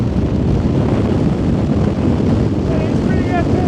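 Strong gusts buffet the microphone outdoors, a loud continuous low rumble filling the whole stretch, with a voice faintly present beneath the roar.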